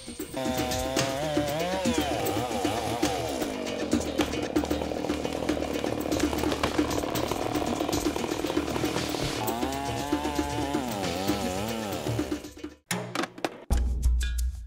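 A chainsaw felling trees in a forest for timber, its engine droning and revving continuously with shifting pitch, then cutting out near the end, followed by a few heavy knocks.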